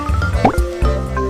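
Oil goes into a pan as a cartoon cooking effect, a short burst of bubbly, dripping plops with a brief rising squeak, bright and close.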